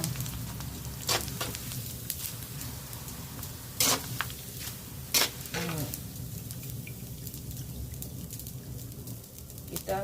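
Oil sizzles steadily as food fries for soto ayam, a continuous hiss broken by a few sharp crackles and clinks of utensils close by, with no talk.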